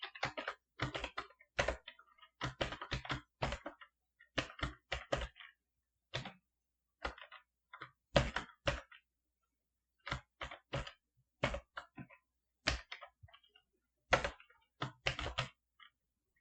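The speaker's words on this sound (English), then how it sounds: "bear with me while I type it out" Keys clatter in irregular bursts on a keyboard wired through an adapter to an Atari 2600 as a short BASIC program is entered, crisp close clicks separated by brief pauses.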